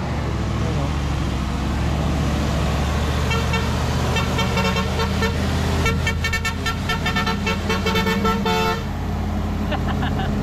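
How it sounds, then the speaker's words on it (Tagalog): Traffic on a Philippine road heard from a motorcycle on a long ride, with trucks passing amid steady engine and road rumble, a horn tooting partway through, and voices talking over it. "May mga truck dito, oh."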